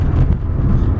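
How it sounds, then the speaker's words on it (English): A 1993 Acura Integra LS Special Edition with manual gearbox, heard from inside as it accelerates through the gears: a loud, steady low engine and exhaust drone with no speech. "Love the engine note, love the exhaust note."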